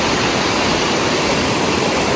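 A large river rushes and flows steadily, a dense, continuous broadband wash of water at a rice-farming village where clothes are washed on the bank. It sounds loud and close, with no voices.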